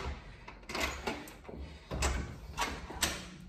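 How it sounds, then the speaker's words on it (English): A glass front door in a new house being closed and locked, giving several short knocks and clunks of handling the door and its lock at close range, with no speech. "I'm gonna lock the door."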